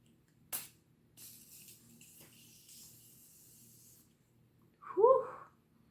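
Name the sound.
setting spray mist being sprayed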